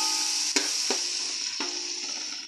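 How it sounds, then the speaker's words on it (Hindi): A spice masala of ground coriander, red chilli, turmeric and salt sizzles steadily in a pan while a spoon scrapes and stirs it in a few distinct strokes, close up. "नमक ऐड करके आप मसाले को अच्छी तरह मिक्स कर लेंगे, अच्छी तरीके से भून लेंगे ताकि मसाला हमारा अच्छी तरीके से भुन जाए"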